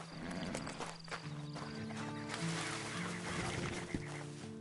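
Horse hooves clip-clopping along with a whinny in Red Dead Redemption 2 Online, mixed with game ambience and background music, fairly quiet.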